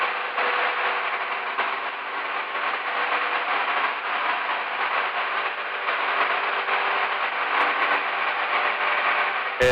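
A small airplane's engine held at full throttle, mixture rich, during a go-around, a loud, continuous and even roar heard through a band-limited intercom-style feed with no talk.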